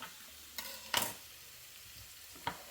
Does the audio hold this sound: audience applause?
no